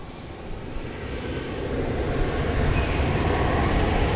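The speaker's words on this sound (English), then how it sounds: "And it's an Airbus A321, which I know for sure." An American Airlines Airbus A321 at DFW airport gives off a steady, broad jet engine roar that builds gradually and holds loud and near, and voices are also present.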